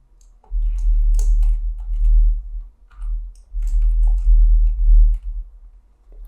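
Typing on a computer keyboard while entering data into Excel: bursts of quick light key clicks in two runs, close and clear over a low steady hum.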